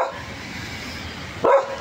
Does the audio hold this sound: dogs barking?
yes